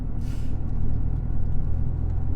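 A Toyota GR Yaris drives along a small Swiss road, a steady low engine and road rumble close by with a brief airy swoosh near the start, no talking.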